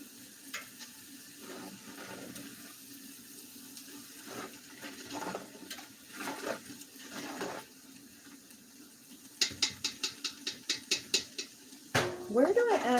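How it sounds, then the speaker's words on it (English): A pot of onion soup sizzles over heat while a spoon stirs it steadily. A quick run of rhythmic scrapes against the pot's bottom comes near the end, followed by a louder clatter. "stirring and scraping the pot constantly for 3 minutes longer"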